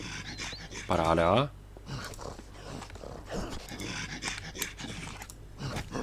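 A dog in the survival video game Mist Survival panting rapidly in short rhythmic breaths, brief and close, followed by someone talking over game noise.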